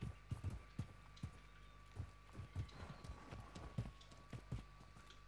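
Footsteps in the Call of Duty Warzone battle royale game thud in a quick, uneven rhythm of soft, fairly faint steps over a low steady background hum, with no speech.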